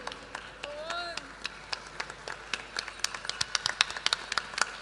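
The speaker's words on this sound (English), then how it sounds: "So I request you all to give a huge round of applause for Uri, who's the writer and director of this script." Audience at a theatrical reading of a play about Shri Mataji Nirmala Devi applauds the writer and director, scattered claps building into a steady round of moderate applause.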